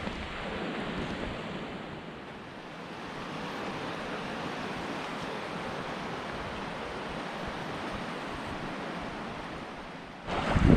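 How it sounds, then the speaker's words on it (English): The lower Piedra River flowing past a dispersed campsite in San Juan National Forest, a steady broadband rush of water heard from nearby, continuous and even, with a brief louder gust at the very end. "Got the sound of the river in the background."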